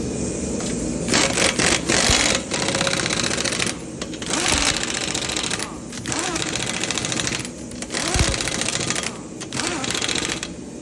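A rattling impact wrench with a 21 mm socket works lug nuts off a 2019 Lexus ES 350 in loud, close bursts of a second or two, separated by short pauses.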